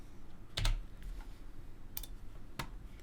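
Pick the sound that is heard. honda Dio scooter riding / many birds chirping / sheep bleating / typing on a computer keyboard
typing on a computer keyboard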